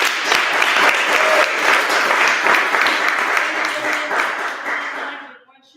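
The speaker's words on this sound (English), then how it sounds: "Another round of applause was wonderful" A symposium audience applauds steadily with dense, full clapping that holds level for several seconds before tapering off and stopping.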